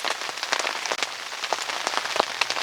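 Rain falling on the shelter and ground beside a tarn during carp fishing, a steady dense patter of drops with sharper individual taps, close and continuous.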